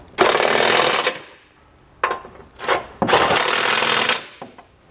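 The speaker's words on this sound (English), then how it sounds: "We can then go back and tighten them down with a 21 millimeter socket." Trailer hitch bolts on a 2020 Jeep Grand Cherokee are tightened with a 21 millimeter socket, heard as loud close bursts of powered rattling: one long, two short, then another long run with brief gaps between.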